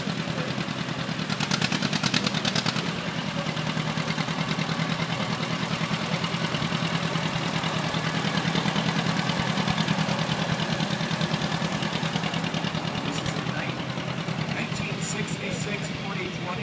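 A 1957 John Deere tractor engine idles with a steady low rumble, loud and continuous throughout, while people talk nearby.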